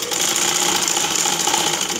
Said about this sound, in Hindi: उसके हम सिलाई करेंगे।